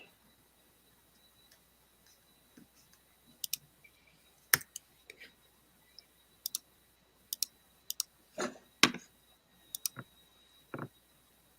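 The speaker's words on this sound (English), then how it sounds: "You're clicking buttons." Buttons on a gaming setup are clicked in a quiet room, giving sparse, sharp, faint clicks at irregular intervals with a few quick clusters.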